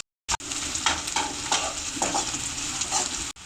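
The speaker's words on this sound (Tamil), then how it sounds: "ஒரு 3 வெங்காயம் நல்லா பொன்னிறமாக வறுத்து எடுத்துக்கலாம்." Three onions and four green chillies fry in a pan with a close, steady sizzle, punctuated by several scraping stirs; the sound starts after a brief silence and cuts off abruptly at the end.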